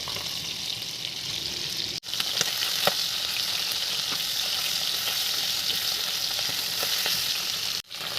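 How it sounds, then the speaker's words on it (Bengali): Tangra fish fry in hot mustard oil in a wok, giving a steady, bright sizzle with occasional pops and crackles. It sounds close, runs continuously and is broken by two brief dropouts. "এবার মাছগুলো এক এক করে ছেড়ে দিলাম বা ভালো করে ভাজা করে নেব"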